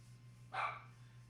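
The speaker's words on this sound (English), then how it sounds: "I hear the dog" A single short dog bark heard faintly at a distance in a quiet residential neighborhood at night, over a steady low hum.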